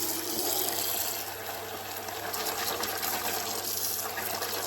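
Lukewarm tap water running steadily into a sink for washing fine china with gold trim, a continuous close splashing flow.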